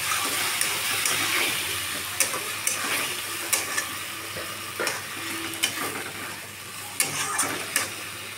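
Spice paste sizzles in a pan for egg chicken tadka, a steady hissing fry broken by sharp scrapes and taps of a stirring spoon at irregular intervals, close and without talk.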